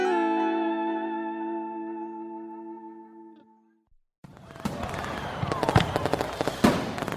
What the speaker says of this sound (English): Beautiful fireworks are dotting the skies